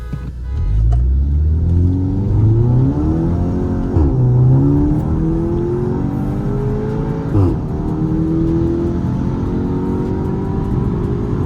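Two Skoda Octavias, a Stage 3 tuned 2.0 TSI vRS against a stock 1.8 TSI, accelerate hard in a drag race, their engines climbing steadily through several gear changes, loud and close with no talk.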